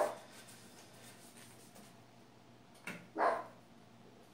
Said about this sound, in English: He always barks at the door.